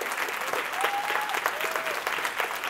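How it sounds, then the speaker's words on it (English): An audience at a Codeland tech conference in NYC applauds after a talk, with a steady clatter of many hands, fairly loud and near. "Let's give her another round of applause."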